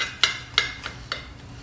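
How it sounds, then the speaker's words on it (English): A big serrated knife saws through a chicken meatball sub with sauce, giving four quick rasping strokes, close and fairly quiet with no talk. "So I'm going to try and cut through a meatball"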